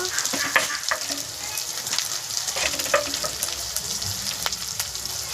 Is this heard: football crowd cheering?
no